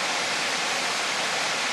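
Steady rushing water of a small creek during a spring hike in gold-prospecting country, a continuous broadband wash with no breaks and no voices.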